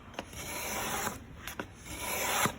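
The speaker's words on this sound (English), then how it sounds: "I'm gonna shave this down until I get close to that center line." Wooden guitar back brace shaved down by hand, a close rasping, scraping stroke sound repeating in steady passes with short sharp accents between strokes, no talking.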